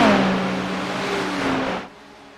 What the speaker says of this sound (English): GT cars around Daytona, there's just a sweet sound to them, isn't there?